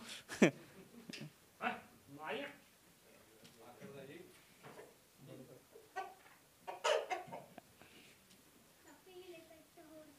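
A heavy, well-fed rooster on a goat farm in Ladal clucks and calls in short bursts nearby, with voices talking in between and sharp clicks scattered through.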